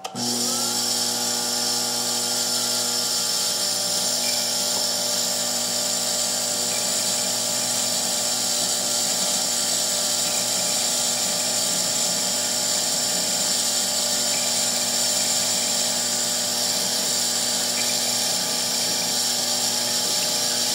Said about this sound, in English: now we have the cutter lined up with the wax surface. Run the file.